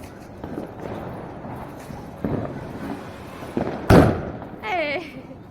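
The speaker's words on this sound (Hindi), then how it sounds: "हमने सारे बम पटाखे जला लिए हैं" Diwali firecrackers go off outdoors: one sharp, loud bang stands out amid smaller pops and thuds, followed by a brief rising hiss, with people talking throughout.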